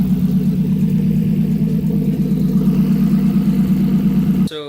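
Nissan RB26 stock-block single-turbo engine with a 6765 turbo, fitted in an S14, running at a steady loud idle with a deep, even drone, close up and uninterrupted until a brief clatter at the very end.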